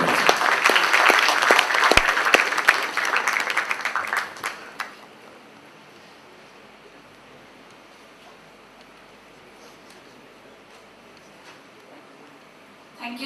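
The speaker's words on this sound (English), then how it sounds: "deserves another big round of applause" An audience applauds after a speech at a Taj event in 2008, a loud, dense burst of clapping that fades out after a few seconds, leaving quiet room tone.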